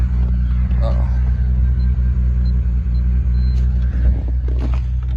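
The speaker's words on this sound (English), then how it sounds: "letting the car warm up" A car engine idles while warming up, giving a steady, loud low rumble with a continuous drone and no revving, close by throughout.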